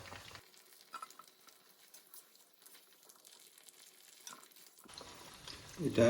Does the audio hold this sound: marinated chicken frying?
yes